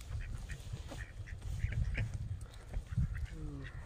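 Wild ducks with green heads, fed in a forest park, make soft scattered quacks and honks at moderate distance over a low rumbling, rustling background, with a faint voice now and then.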